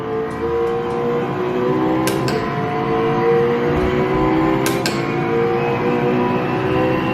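A race car engine in the rFactor 2 sim racing game drones steadily at high revs, with a couple of brief sharp clicks, and the loud, continuous engine sound dominates throughout.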